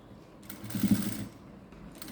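A sewing machine stitches fabric in a brief, soft burst of whirring, with quieter mechanical hum before and after.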